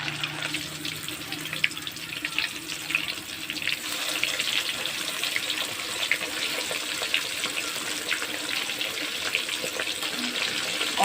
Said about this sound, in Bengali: বাকি কাটাগুলো সব ভেজে নিচ্ছি আমি